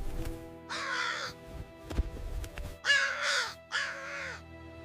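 Three loud, harsh crow caws ring out clearly, one early and two close together near the end, over a low steady hum.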